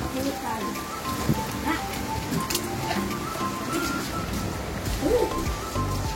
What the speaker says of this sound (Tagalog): Grabe, ayaw tumigil ng ulan, Manilin.